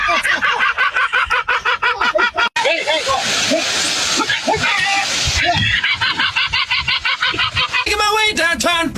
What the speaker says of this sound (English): I'm a seagull